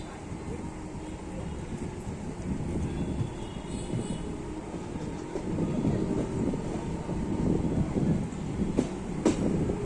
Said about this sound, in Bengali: আমাদের ট্রেন ছেড়ে বেরিয়ে যাচ্ছে শ্রীরামপুর স্টেশন